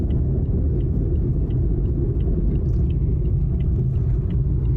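Constant low rumble from a car with failing cheap eBay wheel hubs, heard from inside while driving; a steady, droning road roar with no break and no voices.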